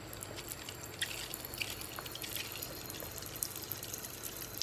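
Water drips and trickles in small irregular splashes while tarantulas are being given water, faint and close against a steady low hiss.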